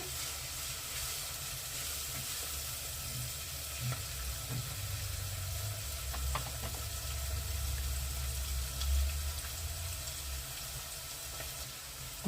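A steady, soft sizzle of onions frying in butter in a pan continues throughout, with occasional light stirring sounds and no talking.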